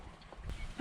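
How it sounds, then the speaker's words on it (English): A single loud duck quack bursts out at the end after a stretch of quiet, faint outdoor background during a duck hunt. "There's two ducks on our left coming"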